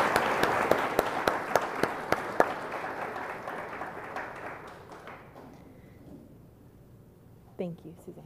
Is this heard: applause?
yes